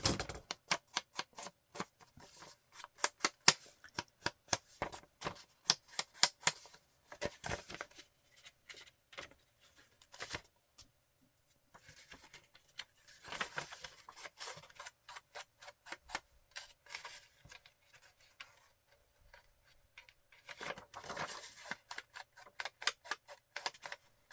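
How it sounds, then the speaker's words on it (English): Small scissors trimming the corners of paper or card, giving rapid, dry clicking snips in irregular bursts with short pauses between, close and fairly quiet, with no talking. "I want to soften these corners too. Just the tiniest little trim."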